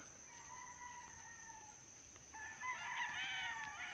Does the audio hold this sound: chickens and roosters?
yes